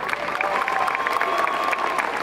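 A large audience at a tech festival opening applauds and cheers loudly for the event's director, a dense wash of clapping with crowd noise and a few voices mixed in.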